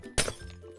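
A glass block shatters in Minecraft when mined with a pickaxe lacking silk touch: one sharp, bright crack and tinkle, followed by a short, softer clatter that fades out.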